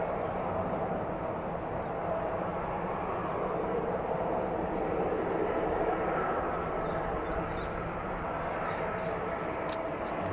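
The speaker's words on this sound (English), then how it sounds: "The 767 inbound from Leipzig, just south of the airfield now." Boeing 767 inbound from Leipzig on approach to East Midlands Airport, a steady distant jet roar that holds fairly level throughout with no talk over it.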